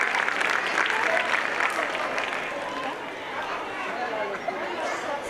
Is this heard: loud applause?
yes